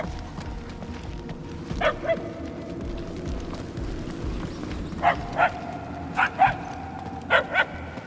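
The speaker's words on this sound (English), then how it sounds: "The barks are getting louder" Distant dog barks from the game Guardians of the Galaxy, in short pairs and clusters of yips spaced across a steady ambient rumble, growing slightly stronger toward the end.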